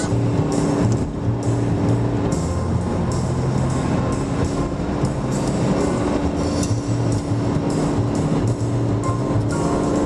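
A Chevrolet Volt accelerates up a big hill, heard from inside as a steady, close drone of drivetrain hum, tyre roar and wind noise with no talking.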